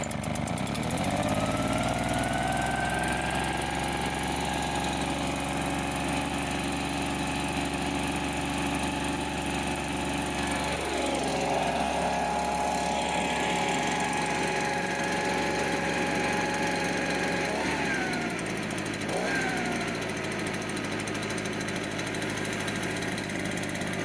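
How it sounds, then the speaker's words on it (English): A Titan TTBPP52 two-stroke petrol leaf blower runs steadily and loudly, holding a constant buzzing drone with two brief dips in pitch near the end as the throttle eases and recovers. "So this is our review of the Titan TTBPP 52 two-stroke leaf blower"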